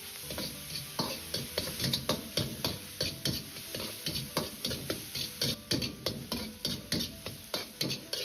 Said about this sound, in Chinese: 翻炒的时间稍微要长一点，一定要炒干香菇多余的水分，炒至发干的状态